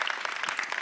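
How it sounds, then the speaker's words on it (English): An audience applauds after a conference talk, a short burst of dense clapping heard from within the room. "So could you please join me in thanking Hendrik?"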